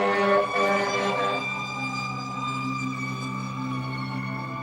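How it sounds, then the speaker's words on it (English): Emergency sirens from passing fire trucks and ambulances wail continuously in steady tones, loud at first and then fading slightly as the vehicles move away, with no talk over them. "I don't know how many fire trucks and ambulances just went by"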